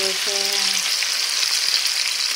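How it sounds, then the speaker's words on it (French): Green celery sizzles in a hot frying pan, a loud, even hiss close up that carries on steadily, with a brief tonal hum at the start and no talking. "je vais mettre des céleri verts tout d'abord à la poêle"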